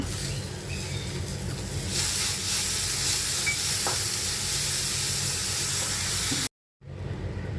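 Grated Indian gooseberry and cumin hit a hot pan and sizzle loudly and steadily with a hissing, frying texture for several seconds before the sound cuts off abruptly.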